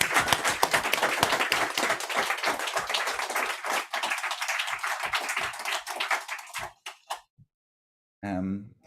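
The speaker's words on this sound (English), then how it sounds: "a big round of applause for Grace Zhou" An audience applauds a poet after her reading: lively, dense clapping for about seven seconds that thins into a few scattered claps, then silence and a brief voice.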